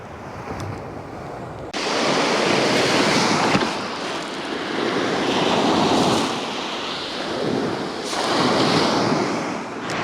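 Surf washing onto a beach at night during a whiting fishing trip, loud rolling waves that rise and fall in slow swells, with wind buffeting the microphone and no talking.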